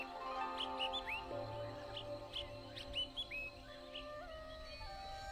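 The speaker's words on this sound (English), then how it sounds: "the birds chirping in the distance" Scattered bird chirps and short tweets ring out at a distance over a quiet, steady background hum, in Shaoguan, Guangdong.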